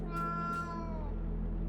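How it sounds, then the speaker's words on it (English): A gray kitten meowing in the game Moonscars, one clear drawn-out meow over a steady low background drone. "why your gray kitten wanders around, Zoran"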